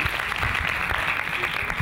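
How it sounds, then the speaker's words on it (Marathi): A crowd at a stage competition event claps loudly and steadily in dense applause for a young performer, with no talking over it. "जोरदार टाळ्या होतात सईसाठी"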